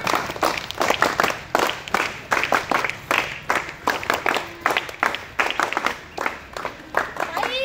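A group of schoolchildren at a seventh-grade street play claps in a steady, rhythmic unison beat, loud and close, repeated strokes roughly every half second throughout.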